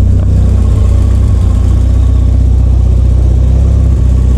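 A Volvo engine idles with a bassy muffler note, a steady, loud low rumble that holds unbroken throughout with no voices.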